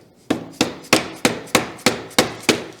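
A rubber mallet strikes a 10mm socket seated against a bike axle pin, driving the pin out during e-bike assembly: eight evenly spaced, sharp, close knocks, one roughly every third of a second, with nothing else heard.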